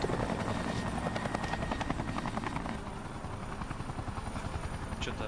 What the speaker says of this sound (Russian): вот они на вертолете с этим, с Жоржем прилетели